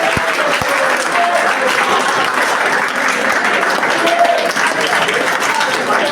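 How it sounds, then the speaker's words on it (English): Loud, continuous applause from an audience at a college event, a dense unbroken wash of clapping with crowd murmur and voices mixed in throughout. "A big round of applause."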